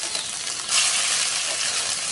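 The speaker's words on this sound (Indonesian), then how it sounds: "Setelah ini kita akan masukkan bumbu yang sudah tadi kita haluskan." Ground spice paste sizzles in hot oil in a non-stick wok, a bright, steady frying hiss that swells slightly as the paste hits the pan, close and continuous, with no talking.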